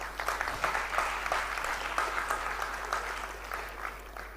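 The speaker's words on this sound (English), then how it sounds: "Thank you, sir, and a clap for Mr. Hada." An audience at a school graduation ceremony claps together, a dense crackling wave that starts with a few sharp early claps, holds steady, then gradually thins and softens toward the end.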